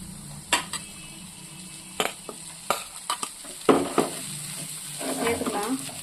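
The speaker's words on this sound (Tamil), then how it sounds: "இப்போ இதை நல்லா மிக்ஸ் பண்ணிக்கலாம்" Rice being stirred into masala in a hot pan, a spoon scraping and clinking in irregular strokes over a low sizzle, a few close knocks against the pan, with no talking.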